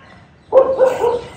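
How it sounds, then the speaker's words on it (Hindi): Street dogs bark a short distance away, a loud burst of a few quick barks and yelps, close together, with no talking. "वो सारे चले गए उधर, वो उधर ही भौंक रहे हैं।"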